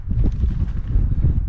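Strong wind buffets the microphone on an exposed hilltop at Kinder Scout in the Peak District, a loud, low, continuous rumble with gusty swells and no voices.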